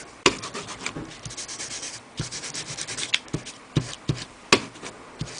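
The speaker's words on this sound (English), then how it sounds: "rub some ink on there and start from the outside edge and bring the ink in." Ink is rubbed by hand onto paper cut-outs, working in from the outside edge: a soft, scratchy rubbing with repeated short dabs and strokes, close and fairly quiet, alone.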